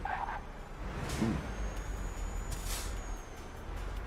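Truck air brakes in Euro Truck Simulator 2 release a sharp pneumatic hiss over a steady engine rumble, with a brief faint tonal whine, all at moderate volume.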